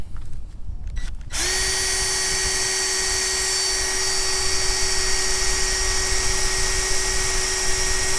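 A power drill spins up after a brief pause and runs steadily, loud and close, boring a hole in a boat deck during repair work.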